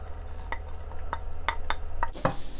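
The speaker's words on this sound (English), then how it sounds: "clean wok, new oil, about a tablespoon and a half maximum. Starting with the onion and ginger." Onion and ginger stir-frying in oil in a clean wok, a steady close sizzle punctuated by repeated sharp scrapes and clinks of a spatula against the pan.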